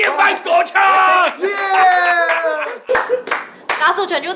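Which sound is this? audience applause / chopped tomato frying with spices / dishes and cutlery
audience applause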